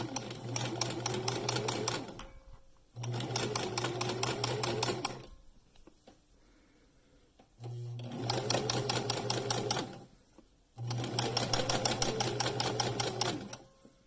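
A sewing machine fitted with a knit presser foot stitches stretchy fabric in four steady bursts of rapid mechanical chatter with a low motor hum, each run lasting about two seconds and separated by brief quiet pauses.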